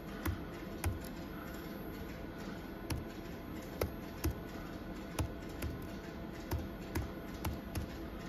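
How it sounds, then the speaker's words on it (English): Sparse, soft key taps on a computer keyboard as a number is typed in, faint and irregular clicks spaced through a quiet room with no talk. "So let me just type here."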